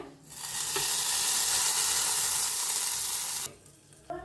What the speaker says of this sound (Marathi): थोडस टाकूया हिंग मस्त असं बघा किती छान असे फोडणी बसलेले आहे